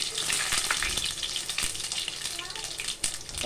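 Mustard seeds, cumin and two bay leaves sizzle in hot oil for a fish masala curry, a close, steady crackling hiss with brief pops throughout.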